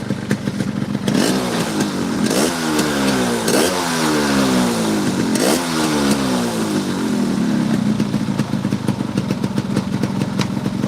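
A nearby all-original 2005 RX King motorcycle engine revs repeatedly in rising bursts, then settles back toward an idle.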